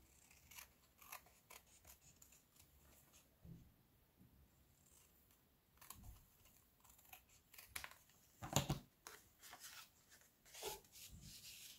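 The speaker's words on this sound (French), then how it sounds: "Je vais découper en fait le tour" Scissors snip around the gold border of a sheet of craft paper, a string of close, crisp cuts with short pauses and paper rustling between them.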